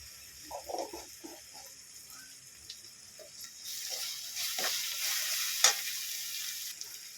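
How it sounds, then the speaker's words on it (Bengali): Spice paste with ground cumin and coriander frying in a pan for a jackfruit seed dish, heard as a soft, crackling sizzle with stirring scrapes that grows louder and steadier partway through. "জিরে গুঁড়ো আবারও ভেজে নেবো মশলাগুলো"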